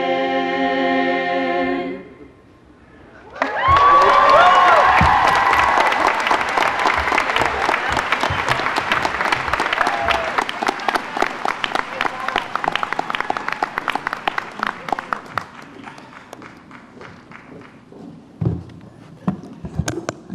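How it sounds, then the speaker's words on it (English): Graduation audience applause swells after a musical performance ends, a long dense burst of clapping from a large crowd that thins to scattered claps before fading out. "How about another round of applause for them?"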